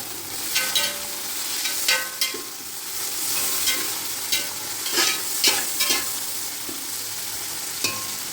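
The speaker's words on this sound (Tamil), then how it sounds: "இப்படியே ஃப்ரை ஆகிட்டுருக்கோம் வெங்காயம் நல்லா ஃப்ரை ஆகிடுச்சி" Sliced onions with mint and coriander leaves fry for biryani in a pan, a constant close sizzle with repeated scraping stirs of a spoon against the metal at irregular intervals.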